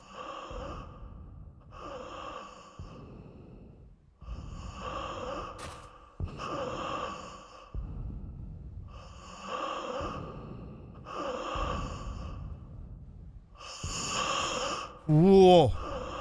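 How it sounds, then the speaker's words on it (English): A woman's breathing in the horror video game The Guest, rhythmic gasping inhales and exhales repeating at a steady pace, fairly close and clear, ending in a brief rising tone. "Did you hear her breathing?"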